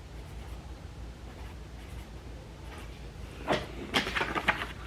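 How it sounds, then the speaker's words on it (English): A pen scratches quickly across paper in a burst of short strokes near the end, after a stretch of quiet room noise at a meet-up event. "We gonna write this down."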